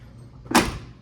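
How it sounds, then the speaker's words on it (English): A door slams shut on a 1994 Chevrolet C1500 truck, one sharp, close thud after a quiet moment, followed by a short fading rattle. "Oh, I gotta lift it to get the door into place."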